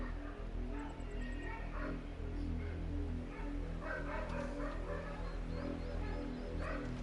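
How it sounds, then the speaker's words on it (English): A dog barks and yips in Final Fantasy XVI, short sharp calls rising over a steady low game soundtrack drone, with no talking. "The dog."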